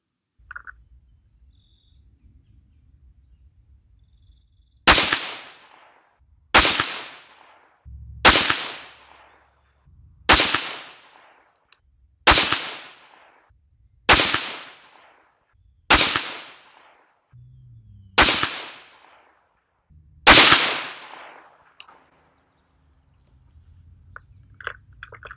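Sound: 6.5 Grendel rifle shots, 130gr Nosler RDF, at 100 yards

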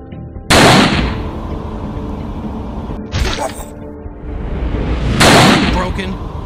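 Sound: gunshots in a video game (Range of the Dead)

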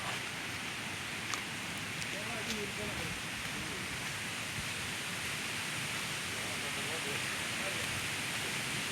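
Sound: distant sound of water from Kaigal waterfall

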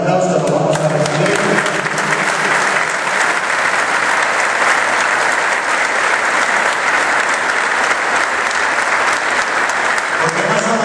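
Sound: audience applause welcoming a speaker

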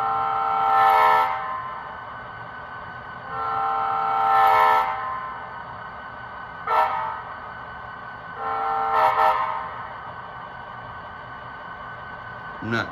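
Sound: horn of Bachmann GP35 HO model locomotive sound decoder

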